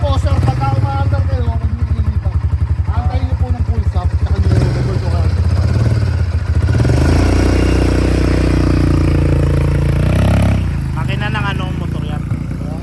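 An ATV Shark 4x2 engine runs close by, a steady mid-pitched idle with brief revving swells and mechanical clatter, with people talking over it throughout.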